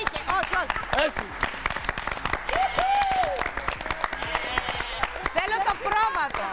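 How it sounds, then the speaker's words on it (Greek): Warm applause from a live television studio audience runs underneath a lively presenter who keeps speaking over it, the clapping a continuous bed of moderate loudness behind the voice. "Ένα χειροκρότημα θερμό για την Μάγκη Χαραλαμπίδου"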